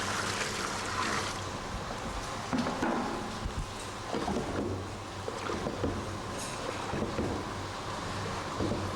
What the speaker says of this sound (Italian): Adesso aggiungiamo dell'acqua calda per fare filare